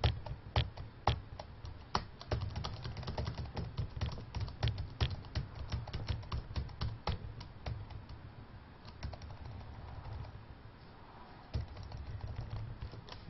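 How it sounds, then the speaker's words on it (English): Keys on a computer keyboard are pressed in quick, irregular bursts of sharp clicks during game making, close and clear over a low hum. "Don't know if you can hear my keys being pressed."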